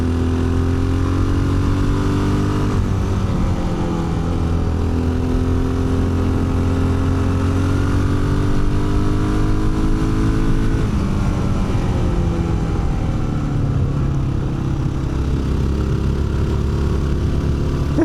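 A 2025 Honda XR650L single-cylinder motorcycle on a commuter ride, its engine droning loud and steady throughout with gradual pitch shifts through the gears and no talking.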